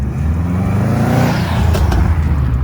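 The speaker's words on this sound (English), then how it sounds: "you got a loud car" A loud car drives past on a road, a heavy rumbling engine with rising revs and a whooshing sweep as it passes close by.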